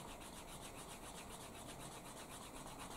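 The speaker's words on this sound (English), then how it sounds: "Finish it off with some beeswax. It's just simply just rub it along the edges" A block of beeswax is rubbed back and forth along the edges of a piece of leather, making a quiet, steady, rhythmic rasping scrape that repeats in even strokes throughout.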